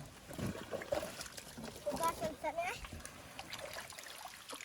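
Water trickles and splashes as it is poured off a pan while panning for gold outdoors, small irregular spills and drips with people talking over the pouring.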